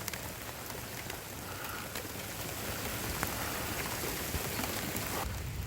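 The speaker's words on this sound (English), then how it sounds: "Ah, and here's the rain." Steady rain pattering on surfaces outdoors beside a Husqvarna LGT2654 lawn tractor, a continuous even wash of drops at moderate loudness with no talk.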